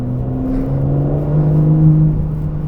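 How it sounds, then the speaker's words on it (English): A 2025 Aston Martin Vanquish V12 engine hums low and steady, its exhaust swelling into a deeper rev near the middle before easing slightly, loud and close. "Right away you could hear the exhaust kick up"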